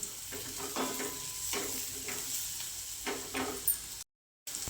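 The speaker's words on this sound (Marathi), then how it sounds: "त्याच्यात थोडीशी कोथंबीर टाकायची आहे ते मिक्स करून घ्यायचं" Bitter gourd chutney stirred by hand with salt and chopped coriander, a steady close scraping and mixing with soft wet pulses throughout, then a brief gap of silence near the end.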